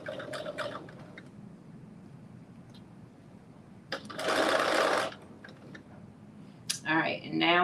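A home sewing machine stitches a garment from McCall's 8370 in two bursts of rapid mechanical chatter, the first longer and steady, the second short, with a brief talking voice near the start and a few faint ticks between the bursts.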